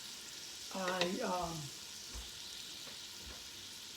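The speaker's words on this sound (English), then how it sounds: "the leeks and the celery are sizzling on the pan here on the oil, good temperature" Leeks and celery sizzle steadily in hot oil in a pan, a soft constant hiss, while a voice speaks briefly over it and a few light clinks sound.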